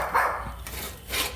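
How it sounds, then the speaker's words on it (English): Dogs bark near an outdoor Smokey Joe grill where shrimp are being cooked, giving about three loud, sharp barks spaced unevenly across a brief moment, with no talking. "Shut up, dogs."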